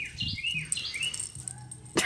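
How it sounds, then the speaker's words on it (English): Birds chirp and tweet as a flock flies out of a tree outdoors, calls scattered over a couple of seconds with a brief rustle of wings at the end. "chased all them birds out of that tree"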